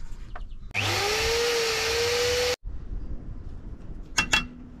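A power drill drills out a DIY car seat rail, whining at a steady pitch for nearly two seconds close by, then stopping abruptly, followed by a few metallic clanks.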